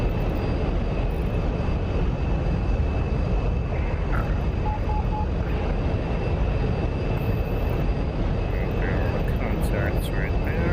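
An F-104 Starfighter jet in a DCS flight simulation roars with a steady, dense broadband rush for the whole stretch, alone and unchanging, with a few faint beeps briefly on top.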